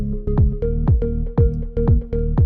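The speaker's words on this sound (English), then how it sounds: "We can actually preview what it's doing by using the kick drum together with the bass line" A thumping house kick drum pulses in a steady four-on-the-floor beat, sidechained against a bass line and Korg M1 organ chords that duck and swell with each hit, producing a pumping rhythm with no voices.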